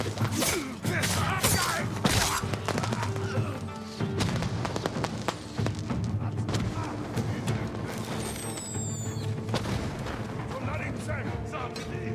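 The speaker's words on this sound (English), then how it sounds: "Setting off fireworks" Fireworks going off in the video game Ghost of Tsushima, a rapid series of loud booms and crackling bursts, with a whistling rise near the end.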